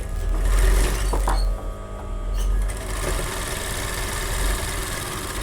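An electric sewing machine stitches half-inch tucks on a collar blouse, its motor whirring loudly and continuously at close range, rising and easing slightly in pace, with no voices.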